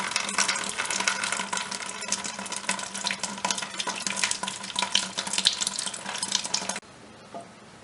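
Water flows and trickles steadily out of a toilet tank during a fill valve replacement, a close, busy splashing that cuts off abruptly near the end, leaving faint quiet.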